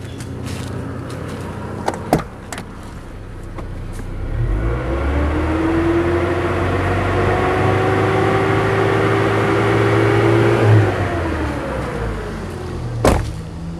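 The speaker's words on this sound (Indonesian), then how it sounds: "Coba tak gas ya." A 2004 Nissan Terrano Z24 engine idles, then revs up and holds a steady high whine for several seconds before dropping back, with a few sharp knocks near the start.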